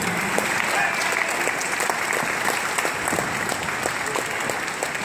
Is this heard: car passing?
no